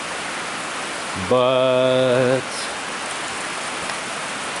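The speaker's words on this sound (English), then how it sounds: "Freaking rain. Hitting the camera lens and messing everything up." Rain patters steadily against a camera lens outdoors near a John Deere 4020, a dense hiss that runs the whole time, while someone speaks a single word partway through.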